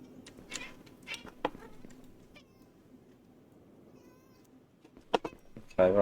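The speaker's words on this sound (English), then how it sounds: "Excuse my cat" A pet cat meowing nearby, several short meows with pauses between them and a louder call at the end over a quiet room.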